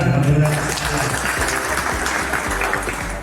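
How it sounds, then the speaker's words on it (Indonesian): A crowd at a PSI political party meeting in South Jakarta applauds, sustained clapping with low rumbling thumps underneath, steady and fairly loud, with no clear speech. "Tepuk tangan, alhamdulillah"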